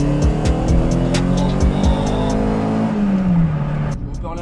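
A Rover 114 GTI 16 pulls hard from 50 in second gear, its engine note climbing steadily loud and close, then easing off as revs drop near the end.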